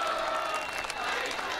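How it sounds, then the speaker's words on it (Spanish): Applause from spectators in the stands at a neighbourhood tournament final, a dense steady clapping that fills the whole moment with a crowd murmur mixed in. "El aplauso de la gente de la tribuna"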